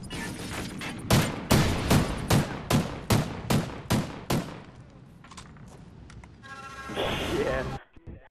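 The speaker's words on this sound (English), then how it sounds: "Someone's firing." Gunfire in a video game: a rapid burst of roughly ten loud, sharp shots in a regular rhythm, followed by quieter scattered sounds and a short rumbling burst near the end.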